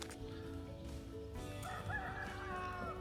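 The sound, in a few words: rooster crowing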